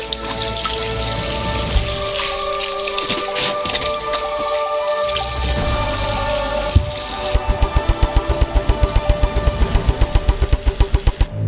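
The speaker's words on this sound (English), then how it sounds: "And each orange needs to be thoroughly washed." Oranges washed under running tap water in a kitchen sink, with a steady splashing water stream, then a run of rapid rhythmic knocks and splashes near the end, close and fairly loud with no talk.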